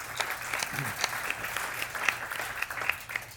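A songwriter event audience applauds in a room, a steady patter of many hands with a few sharper individual claps standing out, moderately close and even throughout.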